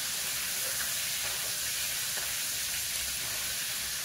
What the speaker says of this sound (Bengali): মাছগুলো তো দিয়েছি একেবারে ভালোভাবে ভাজা হয়ে যাচ্ছে